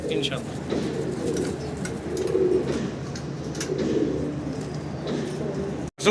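Two male pigeons scuffle and coo with low, throaty calls, loud and close, over a steady bed of other pigeons in a loft or market, with people talking in the background.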